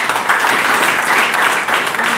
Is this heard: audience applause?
yes